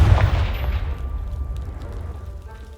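A Confringo blasting spell in Hogwarts Legacy explodes against a pile of debris blocking a stairwell: one sharp boom at the start, then a rumbling decay that fades over a couple of seconds.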